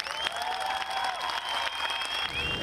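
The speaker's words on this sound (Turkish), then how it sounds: "bir alkış alabilir miyim?" Steady applause from a concert audience, a dense wash of many hands clapping that holds at an even level for a few seconds.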